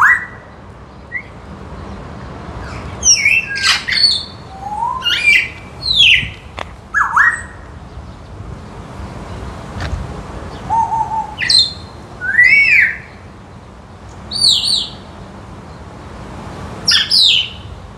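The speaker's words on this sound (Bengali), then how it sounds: "এটা গ্রে প্যারট।" Grey parrot in a zoo cage giving repeated sharp squawks and whistled chirps in short bursts, fairly close, with a faint low murmur of the surroundings between calls.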